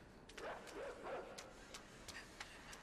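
A dog in the video game Inside barks and yips in quick bursts, fairly faint and mixed in with other game noise.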